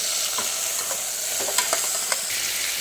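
Steady sizzling with a spatula scraping and stirring vegetables in a frying pan, a few sharper clinks of utensil on metal, no voices.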